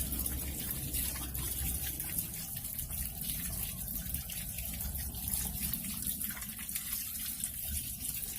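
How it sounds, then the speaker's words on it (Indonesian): Steady running water splashes from a tap, as if hands are rinsed beneath it, continuous and close throughout. "kita basuh dengan air mengalir"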